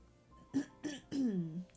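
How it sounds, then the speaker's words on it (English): A woman clears her throat a few times at close range with short rough bursts, the last one longer and drawn out, in a quiet room with faint background sound and no speech. "I've been having to clear my throat a lot"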